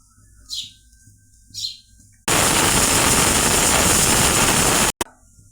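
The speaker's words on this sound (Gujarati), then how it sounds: "જો હીરુ મોર બોલી ગયું," A peacock calls twice with short, sharp cries about a second apart. Then a loud, steady rush of hissing steam drowns everything out before it cuts off abruptly.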